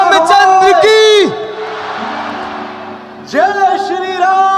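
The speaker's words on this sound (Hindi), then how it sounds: "ताली लगा दीजिएगा एक बार खुल के यार। जोरदार तालियां।" An audience at a religious gathering claps in a dense, sustained burst of applause lasting about two seconds, set between loud, sustained tonal blasts that open and close the passage.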